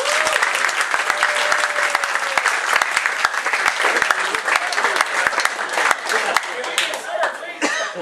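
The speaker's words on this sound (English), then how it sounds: "Let's give him a big round of applause and bring him in right now" A studio audience applauds steadily to welcome a guest expert onstage at a concert event, dense clapping with a few chuckles and faint voices mixed in throughout.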